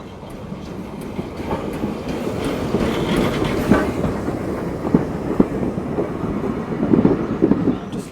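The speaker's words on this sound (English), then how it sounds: "the steam train should be due in 1 minute." A train running on the line at Smallbrook Junction station on the Isle of Wight, a steady rumble with rhythmic wheel clatter and occasional clicks, fairly loud and continuous.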